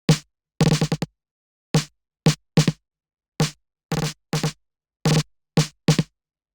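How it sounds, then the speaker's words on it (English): A glitchy IDM-style snare drum pattern plays as crisp, dry, close hits in an irregular, stuttering rhythm, some struck in fast clusters, with total silence between them. "we have the snare, and the snare sounds like this"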